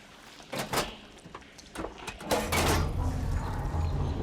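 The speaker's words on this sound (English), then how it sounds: "Sounds like the water's switched." In Horizon Forbidden West, heavy mechanical clunks and sliding scrapes as water flow is switched, followed by a steady rushing hum as it switches over.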